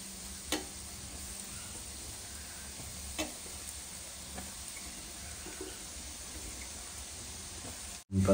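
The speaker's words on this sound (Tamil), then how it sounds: "இப்பதான் KFC ஸ்டைல் பொரிச்சிட்டு இருக்கு." Prawns frying KFC style in hot oil over a low flame give a steady, close sizzling hiss that holds evenly throughout, broken by a couple of faint clinks and a sudden louder knock at the very end, with no voices.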